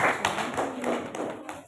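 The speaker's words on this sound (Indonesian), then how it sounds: "Iya, tepuk tangan" A small group claps hands in a classroom, a short run of sharp, irregular slaps lasting under two seconds, fairly close and with no talk over it.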